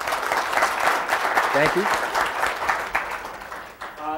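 Audience applause at a bill validator training session, a steady broadband clatter of many hands clapping that carries through the clip, with a brief spoken thanks over it.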